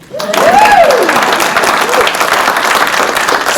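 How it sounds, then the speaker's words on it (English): An audience applauds a speaker at a talk, with loud, dense clapping starting abruptly and holding steady. A voice calls out briefly over the start of the applause. "So how about a round of applause for me?"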